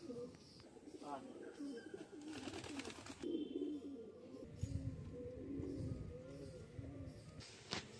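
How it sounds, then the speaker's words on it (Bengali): Pigeons coo in low, soft bursts as they land, with fluttering and rustling throughout and a faint voice in the background. "পায়রা বসছে, দেখতে নিন।"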